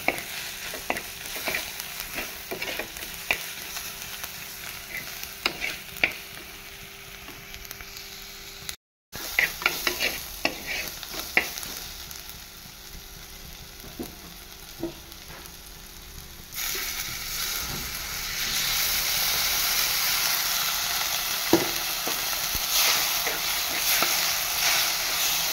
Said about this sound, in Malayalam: ഇനി ഇത് നമുക്ക് ജസ്റ്റ് ഒന്ന് കുറച്ച് നേരം ഇളക്കിയിട്ട് നമുക്കൊന്ന് വേവാൻ വേണ്ടി വെയിറ്റ് ചെയ്യാം